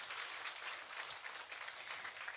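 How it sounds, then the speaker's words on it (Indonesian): Applause from a community gathering audience at a religious talk in Tanjung Anom, Indonesia: steady dense clapping, moderately distant and fairly quiet, with no talk over it. "Saya minta tepuk tangan dulu dong buat warga rakit khususnya Tanjung Anom"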